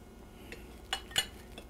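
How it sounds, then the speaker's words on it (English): A big metal spoon scraping and clinking against a pan while lifting out twirled pasta, three or four short, faint metallic taps in a quiet room. "I got a big spoon here to lift this out of the pan"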